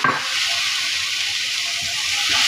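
Tomato sauce with garam masala and tandoori masala sizzles steadily in a hot pan as it is stirred, a close, continuous frying hiss with faint scraping and no talk.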